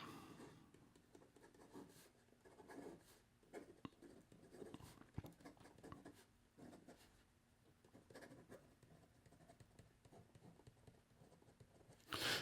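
A Pilot Custom 743 fountain pen with an FA nib scratches across notebook paper, a faint, close, uneven series of strokes and scrapes with brief pauses.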